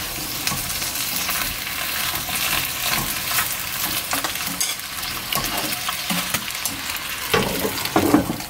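Spinach is flipped and stir-fried in a pan over strong heat until it wilts. A steady close sizzle runs throughout, with rustling and scraping strokes that grow louder toward the end.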